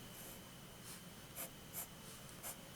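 A vintage steel-nib fountain pen writing on paper, faint scratchy strokes in short bursts over a quiet background hiss.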